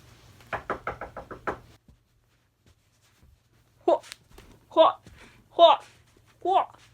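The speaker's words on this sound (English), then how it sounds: "Where's the wood to knock on?" Knuckles rap on wood in a quick run of about six close, crisp knocks, then a person talks after a short pause.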